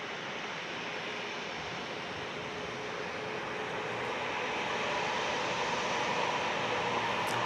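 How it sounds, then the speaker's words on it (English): A British Airways airliner crosses the runway at night at an airport, its jet engines producing a broad, steady roar that swells slightly as it continues, heard from a distance with no talking. "There is the British Airways crossing."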